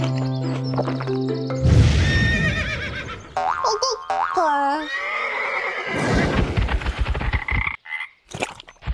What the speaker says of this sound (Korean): 얼룩말